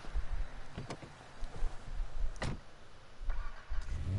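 A car engine turning over and catching in a GTA role-play game, a few short mechanical bursts over a low rumble, close and moderately loud with no talking.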